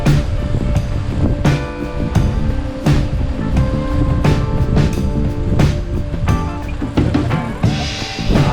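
Surf washing onto the empty sand of Daegwang Beach on Imjado, Korea, a continuous broad wash of breaking waves mixed with gusty wind buffeting the microphone, with sharp bursts of noise scattered throughout.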